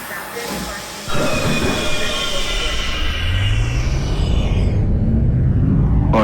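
An R32 subway car on New York's F line bound for Jamaica–179th Street, simulated in OpenBVE, rumbles along steadily and loudly, with wheels squealing and a rising motor whine; a voice can be heard faintly at the start.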